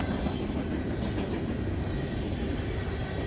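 A D&H freight train, the 11R, rolls past close by with a continuous loud rumble and wheel noise, no voices over it.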